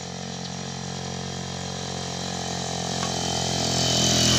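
A steady motorcycle engine hum runs continuously at close range, growing slightly louder toward the end, with no talking; the motorcycle has a sidecar loaded with water containers.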